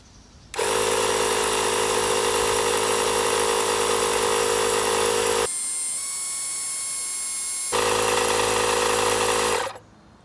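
A Harbor Freight Bauer portable tire inflator pumps up a big truck tire with a loud, steady motor buzz. It cuts out briefly to a thin electronic whine, then starts again and runs for a few more seconds before stopping.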